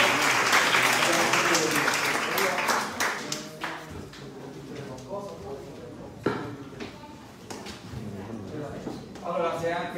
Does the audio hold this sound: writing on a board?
no